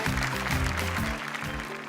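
Applause from a corporate event audience welcoming Ms. Priya Nair, a Unilever South Asia executive, to the stage at a Surf Excel brand event. The clapping is a steady, dense wash underneath a prominent voice and tonal sound.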